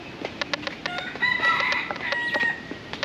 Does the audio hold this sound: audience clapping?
no